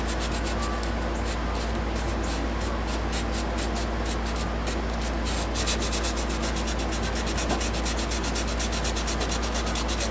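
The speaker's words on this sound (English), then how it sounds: "So anyway, I got some more sanding to do." Steady, continuous sanding scraping spilled paint off a wooden platter, a dense rasping rub close to the mic that runs unbroken from start to finish with a slight rhythmic stroke pattern and no talking.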